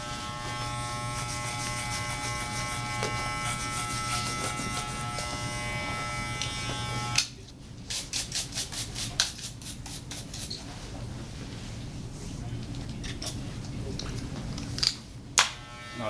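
Electric hair clippers buzzing steadily while cutting a fade on Afro-textured hair, a close continuous hum that later breaks into short stop-start passes and clicks, with a voice talking now and then.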